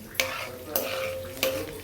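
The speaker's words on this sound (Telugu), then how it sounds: "పోపు వేగుతుంది" Mustard seeds, garlic and dried red chillies frying in hot oil for a tempering, with three sharp spatters or stirring clinks over a steady low sizzle, close up and with no talk.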